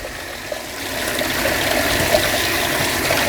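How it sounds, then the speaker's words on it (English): A sink tap runs at full flow of hot and cold water to rinse shrimp tank substrate, a steady close gush with faint clinks from the gravel. "turn the hot cold water on all the way"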